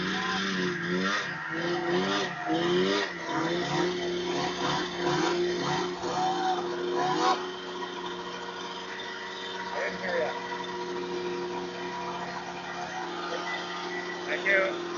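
Go-kart engines racing on the Nith River circuit, a loud, steady buzzing drone with wavering pitch as karts pass close by. The noise eases and thins toward the end, and voices can be heard talking over it.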